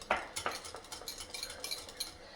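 Eggs for an omelette beaten with a teaspoon or fork, a quick run of light, rhythmic metallic taps and scrapes against the bowl, close and fairly quiet, with no talk.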